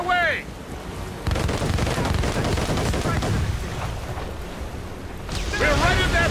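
Naval cannons fire from a sailing warship in Assassin's Creed Rogue, a loud, dense rumbling barrage of booms rolling together over several seconds, with shouted voices just before and after.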